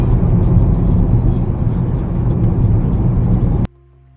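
A car rolls along the road on a trip to Wales, a loud, steady interior rumble of engine and tyres that cuts off abruptly near the end.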